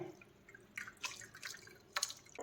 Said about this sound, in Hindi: अब हम छेना को छान लेते हैं